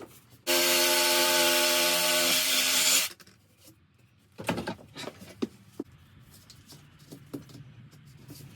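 A power saw cuts a piece of sapele flooring to a curved narrowboat-like shape, one loud steady whining cut of about two and a half seconds, followed by scattered clunks and taps as the piece is handled.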